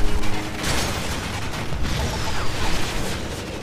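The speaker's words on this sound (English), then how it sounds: "Heavy machine gun." A heavy machine gun fires in the video game Renegade Ops, a dense mechanical rattle with pops running continuously under the game's loud mix.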